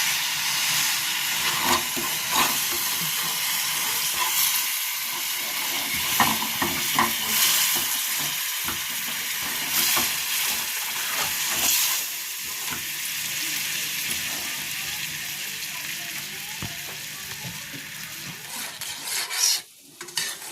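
Sugar and a splash of water bubbling and caramelizing in a pan on the stove, a steady close sizzling hiss with occasional stirring scrapes, running alone for about twenty seconds.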